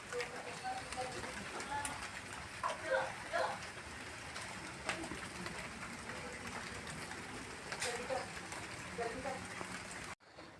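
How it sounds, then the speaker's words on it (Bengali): Steady rain falls through a long wet afternoon, a continuous broadband patter with scattered bird calls over it, ending in sudden quiet. "বৃষ্টি পড়েই যাচ্ছে দুপুর থেকেই, দেখো সারাদিন বৃষ্টি।"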